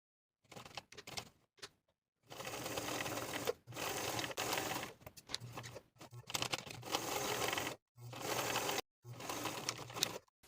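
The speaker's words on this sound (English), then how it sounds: "sewing those welts along the horizontal lines that you've traced" A sewing machine stitches welts along traced lines on a dress, running in repeated bursts of rapid mechanical chatter separated by short pauses.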